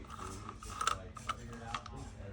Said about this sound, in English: we're going to start by removing the 8mm or Torx bolt on the frame guard